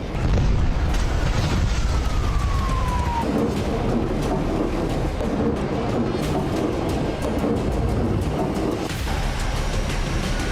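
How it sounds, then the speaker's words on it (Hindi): A loud, continuous roar of blast noise and rumble from an explosion at a weapons depot in Tehran fills the whole stretch, with a brief falling whistle early on and steady heavy low-end energy throughout. "जहां एक जोरदार धमाका हुआ और उसकी आवाज कई किलोमीटर दूर तक सुनाई दी"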